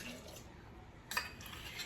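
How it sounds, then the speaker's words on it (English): Warm water is poured into a jar for a sourdough starter, a soft, faint trickle close by with a brief brighter splash partway through and no talking. "I'm going to get room temperature, a little bit warm water in here."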